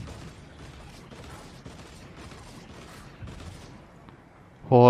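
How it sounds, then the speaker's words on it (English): A weapon reloading in Fortnite, a series of quick rhythmic mechanical clicks and rattles at moderate level, ending in a sudden loud tonal game sound. "I'm reloading."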